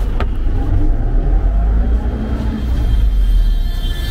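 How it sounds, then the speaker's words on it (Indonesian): A Medos minibus in Jammu, India, idles with a steady, loud low rumble that holds close by for the whole stretch, with no voices over it. "Wow, bus mini Medos, menarik sekali."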